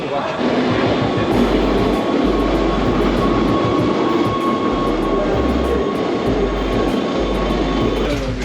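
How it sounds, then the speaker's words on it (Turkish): Train arriving on the line from Lauterbrunnen to Wengen in Switzerland, rumbling loudly and close by with steady wheel clatter and a continuous mechanical roar. "O tren geldi."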